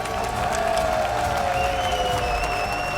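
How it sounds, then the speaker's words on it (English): A live esports crowd applauds champion team OpTic at an Esports World Cup final, steady clapping and cheering filling the hall at an even level throughout. "Est-ce qu'on peut les applaudir encore une fois, les OpTic?"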